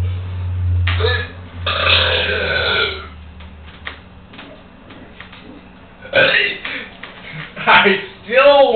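Loud, drawn-out burps from people competing in a burping contest, one long low belch at the start and more bursts later, with laughter and talk between them.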